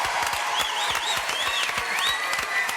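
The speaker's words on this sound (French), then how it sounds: "Applaudissements pour la seigneurie aux ciseaux d'or." A studio audience applauds for a guest on a French television variety show, dense steady clapping close by, with a high whistling tone gliding above it.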